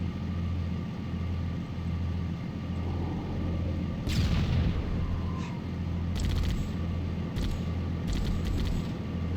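Tank turret cannon fire in the video game Halo Combat Evolved, a few sharp booming blasts over a steady engine rumble, loud and alone with no talk.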